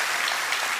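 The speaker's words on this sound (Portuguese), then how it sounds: "Dá uma salva de palmas ao nosso Rei, ao nosso Senhor." Dense, continuous applause fills a church, many hands clapping at once with a loud, steady wash of sound.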